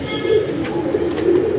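A white domestic pigeon at a rooftop loft coos steadily, its low, throaty rolling calls running close and loud for the whole moment with no break.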